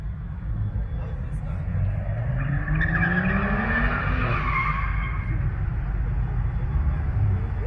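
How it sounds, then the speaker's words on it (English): Cars drifting in a circle on a city street, with a long wavering tire screech rising and falling over a steady engine drone heard from inside a passing Infiniti G37, while people talk nearby. "they got a whole drifting circle going on, bro"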